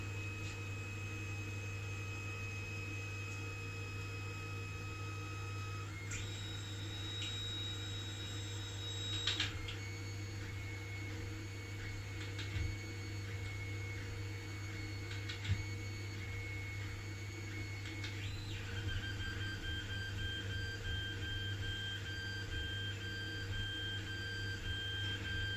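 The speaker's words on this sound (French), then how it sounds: "on va aller sur l'imprimante et imprimer un petit cube sans dumper" An Alfawise U20 3D printer prints a small cube without dampers, humming with steady stepper-motor whines that shift pitch every few seconds, over a low mechanical drone, fairly quiet with no fan and no voices.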